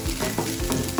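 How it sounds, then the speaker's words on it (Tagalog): Shrimp sizzle and fry in a pan beside egg for pad thai, a close, steady crackling hiss with stirring scrapes. "Maluto ang ating shrimp ng konti."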